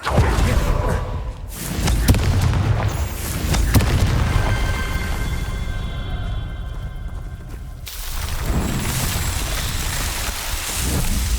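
A Confringo blasting spell goes off in Hogwarts Legacy, a loud rumbling explosion with a heavy low-end boom and crackling debris that rolls on for several seconds, then a second burst follows.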